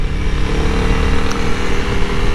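A Honda CRF300L motorcycle engine runs steadily and loud, a dense rumbling drone with wind rush and no talk over it.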